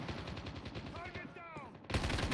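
Rapid bursts of automatic gunfire from Call of Duty Mobile gameplay, a rattling volley that pauses briefly before a loud burst resumes at the end.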